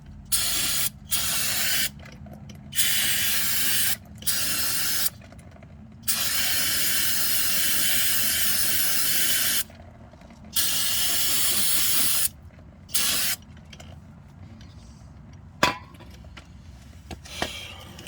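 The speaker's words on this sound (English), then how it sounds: "So I just coated this shit in brake clean, but it'll come right off." Aerosol brake cleaner sprayed onto brake caliper parts during a 2002 Camry brake conversion, a series of loud hissing bursts of varying length separated by short pauses, close and with no talking.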